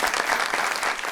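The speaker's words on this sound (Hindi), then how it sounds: "या इसी बात पर तालियां।" Studio audience applauding on a Pakistani TV talk show, a dense, steady burst of clapping that fills the whole short moment at close range.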